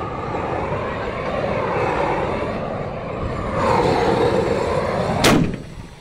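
Carbide cannon shooting at a New Year's Eve event in Haaksbergen, Buurse: a sharp, loud blast cracks out near the end over a rumbling outdoor background.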